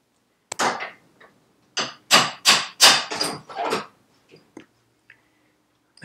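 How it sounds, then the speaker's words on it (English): Several sharp metallic hammer blows strike a shaft held in a vise to knock a bearing free, about a half-dozen close, loud hits in a quick burst followed by a few lighter taps, with no talking. "I'm going to support that in the vise, hit the shaft and that'll release that bearing"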